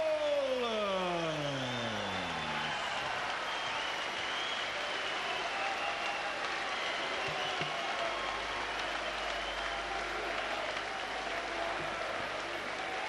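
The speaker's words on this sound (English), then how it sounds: "And a round of applause" A boxing arena crowd applauds and cheers after a WBO super middleweight title bout, a steady wash of distant clapping that fills the whole stretch, with a few fading tonal sweeps at the start.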